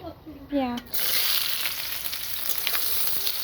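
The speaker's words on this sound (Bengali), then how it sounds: "একে গোটা গরম মশলা, তেজপাতা তেলে ফেলে দিচ্ছি" Whole garam masala and bay leaves hit hot oil in a kadai, setting off a sudden, close, steady sizzle after a short tonal sound at the start.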